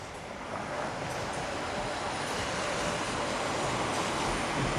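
A steady, broad rumble and rush of a modern TEXRail commuter train rolling past, continuous and even in loudness throughout.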